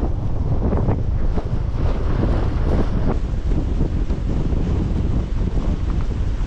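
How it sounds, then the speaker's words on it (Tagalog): Strong, roaring wind from a super typhoon buffets the microphone continuously, with a low rumble that could be surf in the background. "Tayo sa lakas ng hangin."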